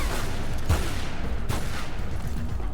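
Enemy shotguns fire in Tomb Raider: Legend, two sharp blasts about a second apart cutting through steady dense game noise.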